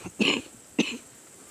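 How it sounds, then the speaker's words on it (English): Two short, harsh coughs close by outdoors during a deer hunt, about half a second apart, with quiet in between and after. "can get rid of this cough"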